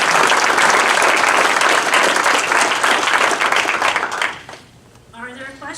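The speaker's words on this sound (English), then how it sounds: "let's give the panel a big round of applause" Conference audience applauds a panel with loud, sustained clapping for about four seconds, then it fades out and a voice begins speaking.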